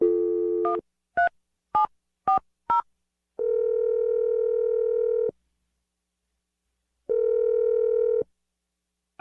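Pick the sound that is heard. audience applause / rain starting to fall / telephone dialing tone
telephone dialing tone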